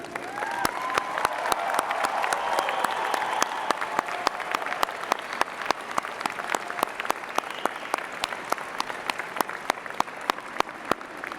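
Friends and family in a university convocation audience applaud the graduating class of 2007, a sustained wash of many hands clapping that swells early then continues steadily, with a few sharper individual claps standing out.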